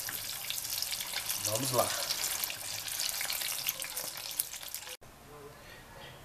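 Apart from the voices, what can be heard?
stuffed peppers frying in oil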